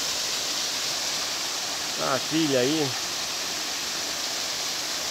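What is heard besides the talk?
Monjolo waterfall in Juquitiba, São Paulo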